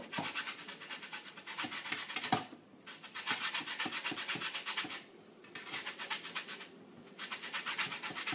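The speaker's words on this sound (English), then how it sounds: "We're going to use the zest off the orange. So I'm just going to scrape it into food processor." Orange zest being scraped into a food processor, a close, steady dry rasping in repeated strokes with brief pauses between passes.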